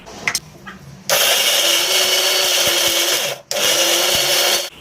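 A kitchen mixer grinder at home blends spice paste for prawn biryani. A little clatter comes first, then two loud, close whirring motor bursts are split by a short pause.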